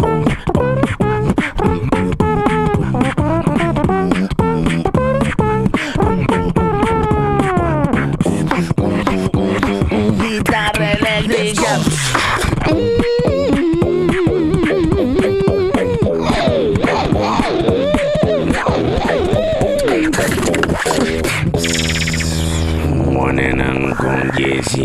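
One performer beatboxes a dense, continuous stream imitating an electric bass, drums and a trumpet. The mouth-made bass lines and snare hits are layered with brassy melodic sweeps, loud and close, with no break in the sound.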